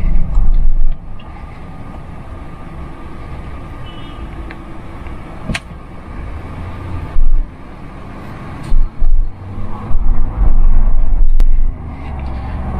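Low engine rumble and road noise inside a 2024 Ford Bronco with a V6 on a test drive, steady drone with a few louder surges and brief bumps.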